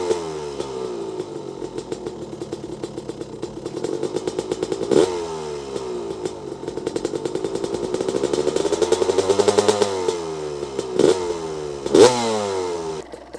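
A Honda CR250 two-stroke dirt bike engine idles close by during break-in with a rapid, buzzy putter, blipping the throttle a few times into brief revs before settling back.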